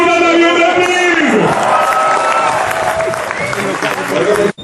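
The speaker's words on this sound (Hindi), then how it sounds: "जोरदार तालियां हो प्लीज" Loud crowd applause with some cheering at a political speech, while a voice with sustained tones carries over it before the clapping fades.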